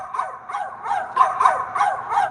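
A woman imitating a dog with her voice, making about six rhythmic bark-like yaps in a steady run, moderately loud and fairly close.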